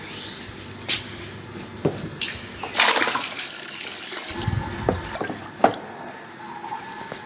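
Water gushes and splashes into a tub being filled for washing clothes at home, with uneven bursts and sloshing over several seconds, fairly close.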